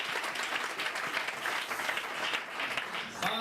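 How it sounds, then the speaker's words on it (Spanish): A church congregation claps in praise during a Spanish-language worship service, a dense, steady wash of applause filling the room, moderately loud and unbroken for a few seconds. "Fuerte ese aplauso de alabanza al Señor."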